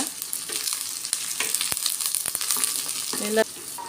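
Curry leaf sprigs hit hot oil for Punjabi green pea kadhi, giving a steady close sizzle with crackling pops and a few clinks of a utensil against the pan.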